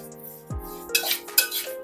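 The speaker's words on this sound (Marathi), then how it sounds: "आता आपण यामध्ये सफेद तीळ जे घेतलेले आहेत ते भाजून घेणार आहोत" White sesame seeds are roasted and stirred in a pan over a low flame: a metal spoon scrapes and clinks against the pan in a few sharp strokes amid soft rustling.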